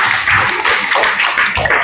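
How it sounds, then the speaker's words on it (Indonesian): Short burst of classroom clapping for a student demonstrating how to slaughter a sacrificial animal for qurban, a small group of hands patting in a steady, fairly close patter with no voices over it. "berikan tepuk tangan dulu buat teman kita yang sedang mempraktekkan"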